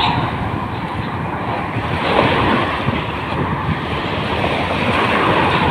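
Sea waves surging at the spot where a river flows into the sea, a steady broadband wash with wind buffeting the microphone and a slight swell near the middle, no voices.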